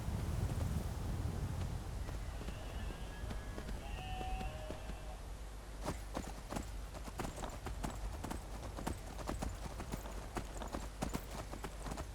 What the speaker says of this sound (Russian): Вот она, лошадка.